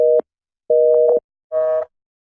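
Telephone busy signal during a call, three loud evenly spaced tones of equal pitch, each roughly half a second long, with no voices over them.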